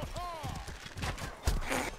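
A horse gallops in the medieval combat game Mordhau, its quick, thudding hoofbeats running under a busy battle mix, with a voice speaking over it.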